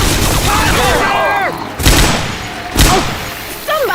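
Gunshots in the zombie shooter Left 4 Dead 2: three sharp, loud blasts at irregular intervals over a steady game-noise background, with voices talking between them.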